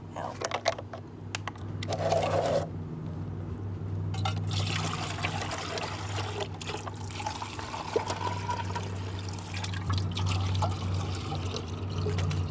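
Water is poured outdoors over cement into small containers, a soft trickling and splashing under a steady low electrical hum, faint and close, with a brief clatter early on.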